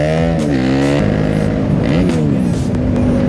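A KTM 390 Duke motorcycle engine runs loud and close while riding, its pitch sliding up and down with shifts and throttle changes over a steady roar, with no one talking.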